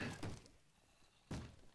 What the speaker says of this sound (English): zombies obviously banging on one of the doors